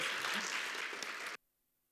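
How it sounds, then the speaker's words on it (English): An audience at the Venice Film Festival claps for a masterclass guest, sustained, close applause that cuts off abruptly after about a second and a half, leaving near silence. "So once more, applause."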